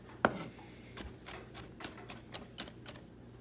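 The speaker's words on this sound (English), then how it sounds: "we're just gonna mince the garlic up" A knife mincing garlic on a cutting board, heard as a quiet series of about ten crisp taps in a fairly steady rhythm, with one sharper knock near the start.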